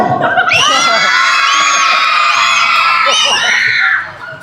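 Loud crowd of children shouting, screaming and cheering together at a gathering, a sustained burst of high voices that holds steady for about four seconds before dropping away.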